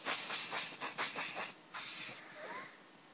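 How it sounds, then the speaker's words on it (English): Hairspray is spritzed onto curled hair in a quick series of close, sharp hissing bursts, followed by one longer spray that trails off. "So I'll just give it another spritz."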